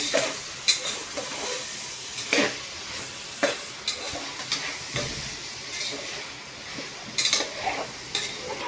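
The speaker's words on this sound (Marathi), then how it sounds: "हे फ्रोझन वाटाणे आणि काजू यात आपण टाकूया। चांगलं भाजायचं आता।" Frozen peas and cashews, along with mushrooms, roast in a pan for a pulav, giving a soft steady sizzle broken by repeated scraping stirs of a utensil against the pan, close and moderately loud.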